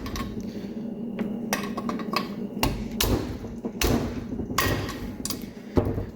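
Valve spring retainers on a 1.8 Miata engine's cylinder head are struck with a hammer to release the keepers, sending a series of sharp metallic whacks at uneven intervals, close and fairly loud.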